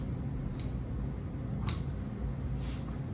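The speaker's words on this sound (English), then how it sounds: "Okay, now let me cut that open." Scissors snipping through the seam of an old shirt, a few separate crisp cuts close by over a soft room background.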